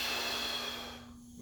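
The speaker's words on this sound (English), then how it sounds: "Breathing out." A loud, drawn-out exhale during a home workout lift, breathy and forceful, fading over a little more than a second with no talking.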